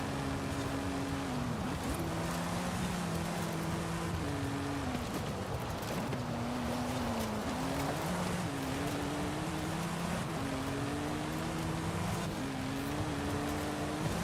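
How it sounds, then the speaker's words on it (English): A Subaru with its stock engine drones in the Forza racing game, a steady mid-level engine tone rising and falling in repeated shifts for about fourteen seconds against broad hissing road noise, no talk. "At least it sounds like a proper Subaru with the stock engine."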